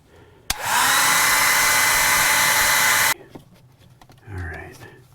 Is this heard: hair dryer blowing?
yes